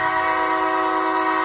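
A freight train's horn blasts loud and steady at a railroad crossing on Lake Avenue in Blasdell, New York, a sustained multi-tone chord ringing alone without a break.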